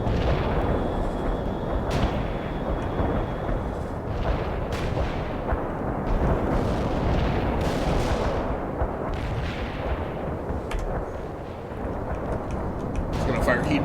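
A tank in World of Tanks fires HEAT rounds amid a dense, continuous barrage of booming game gunfire and explosions, loud and sustained throughout.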